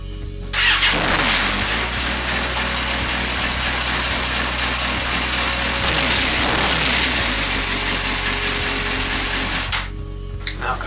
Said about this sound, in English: I'm going to start it up, give it a bit of a rev